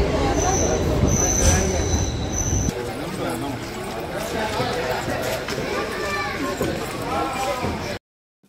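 A train rolls into Joychandi railway station with a loud continuous rumble, a high wheel squeal at first and the clatter of the carriage, while people talk over the noise.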